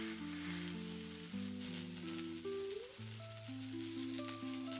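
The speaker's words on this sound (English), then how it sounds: "Griddle pan on high, properly hot. Little oil, lay them down and leave them alone." Buffalo kofta sizzle in a little oil on a very hot griddle pan, giving a soft, steady hiss. Stepped musical notes play over it throughout.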